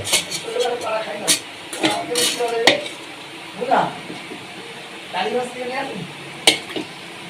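Mutton going into a biryani pot, with scattered clinks and scrapes of a spoon against the pot and a soft sizzle, heard under steady talk in the kitchen.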